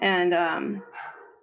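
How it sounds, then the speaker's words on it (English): Several dogs kept in a household bark close by, harmonic barks in the first second loud over a speaking voice, fading as talking continues. "sorry about my dogs."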